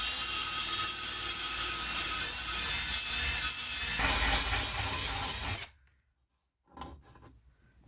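Close, steady rasping of hand sanding on an aluminum mountain bike frame, a continuous gritty scrub that stops abruptly, then a short burst of rubbing resumes after a pause.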